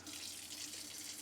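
Hot tap water runs steadily into a sink while a sponge is rinsed out after cleaning a coffee pot, a close, even hiss of flowing water without pauses.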